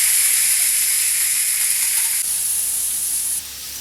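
Ginger, four garlic cloves and curry leaves sizzle steadily in hot oil, a close, dense frying hiss that stays loud throughout and drops slightly near the end, with no talking.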